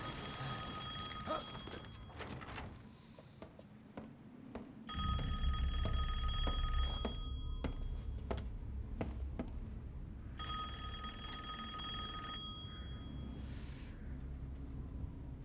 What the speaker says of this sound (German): Hört ihr es auch klingeln?